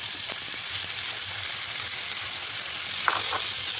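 Ginger garlic paste and minced beef sizzling in a hot pan for beef khao suey, a loud, continuous close-up hiss with a couple of brief clinks near the end.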